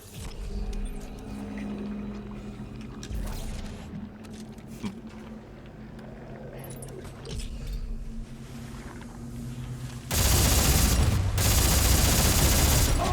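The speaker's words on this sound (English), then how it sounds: "I was just shooting that thing" Rapid bursts of gunfire from shooting in Dead Space 3, a dense clattering texture under game ambience that erupts into a loud, sustained volley near the end.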